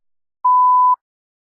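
A single clean electronic beep tone, steady and loud, lasting about half a second amid silence, marking the start of a spoken test response.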